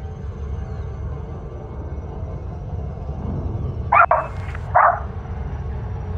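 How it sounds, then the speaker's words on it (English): A dog lets out two short barks about a second apart, moderately close, over a steady low hum with no talking. "The dog."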